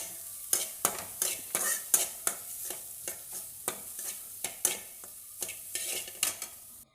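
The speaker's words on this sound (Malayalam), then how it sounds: "ഈ സമയം കൊണ്ട് നമുക്ക് ഇച്ചിരി തേങ്ങ അതേ ചട്ടിയിൽ തന്നെ" A spatula scrapes steadily around a pan of grated coconut being roasted, a rhythmic series of gritty strokes over a soft sizzle, close and clear with no talking.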